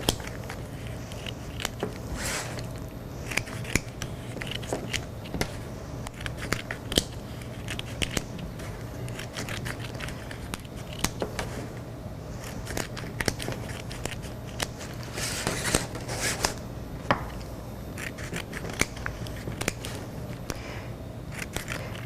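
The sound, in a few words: cutting basket reed spokes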